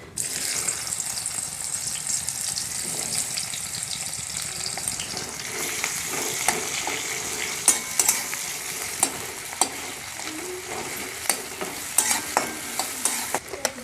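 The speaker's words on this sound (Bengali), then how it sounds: "তেলে এবার দিচ্ছি পেঁয়াজ কুচি" Chopped onion dropped into hot oil left in a kadai after frying a rohu fish head, sizzling and crackling steadily throughout with sharp stirring clatters and scrapes growing busier toward the end.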